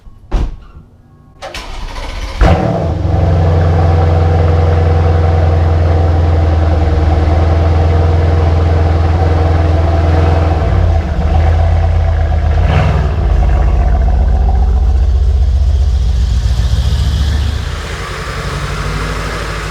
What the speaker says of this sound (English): So the Benz has just been sitting in the garage for about 4 days, so I think it's time for a cold start.